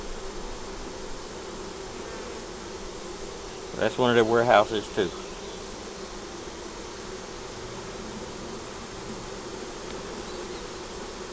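A steady, soft drone of honey bees fills the air during a hive check after a month, while someone speaks briefly over the buzzing partway through.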